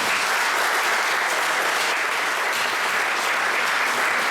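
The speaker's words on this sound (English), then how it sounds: "Please give them a round of applause, everybody." A large audience at a Homestead mayoral debate applauds the candidates, a dense, loud, steady wash of clapping that holds evenly throughout.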